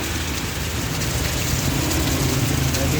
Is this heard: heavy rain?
yes